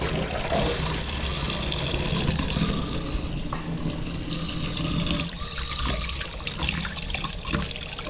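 Tap water runs steadily into a sink while fish is washed, a close, continuous splashing rush with small shifts in flow and no talk.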